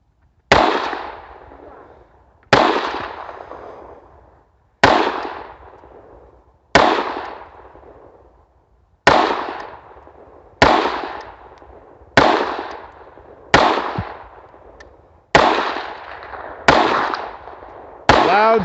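Unsuppressed 300 Blackout rifle firing supersonic rounds outdoors, ten loud sharp shots at a slow, fairly even pace of roughly two seconds apart, each with a long decaying echo.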